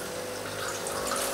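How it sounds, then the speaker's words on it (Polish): Hot water pours steadily from the spout of a Saeco Royal Professional espresso machine into a glass, a continuous close hiss and splash with no talk. "Tutaj mamy gorącą wodę, o, możemy sobie wcisnąć."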